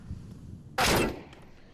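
Short burst of Counter-Strike 2 gunfire, a loud sharp crack of shots lasting about a third of a second over low background hum.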